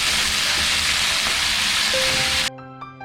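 Sliced onions with salt sizzle steadily in a hot pan, a loud dense crackle that cuts off abruptly near the end, leaving a faint hum.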